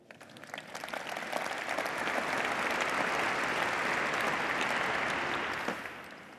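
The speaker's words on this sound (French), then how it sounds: "Chapeau, bravo, vous pouvez les applaudir." A large audience breaks into sustained applause, swelling quickly and holding a dense, even roar of clapping for several seconds before tapering off, at an event with President Emmanuel Macron in Toulouse.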